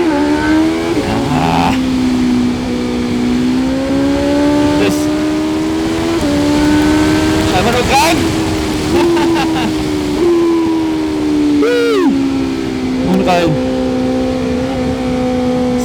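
A 2025 BMW M1000R Competition motorcycle engine revs steadily at speed while riding, a loud, continuous high-pitched drone with rising and falling pitch and brief shifts, over wind noise throughout.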